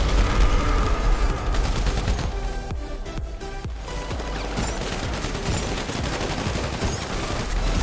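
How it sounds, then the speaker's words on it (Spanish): A pump-action shotgun fires in GTA 5 on PS4 amid dense, loud game gunfire, with shots overlapping into continuous bursts of cracks and booms throughout. "Con la escopeta de bombeo, ¿no?"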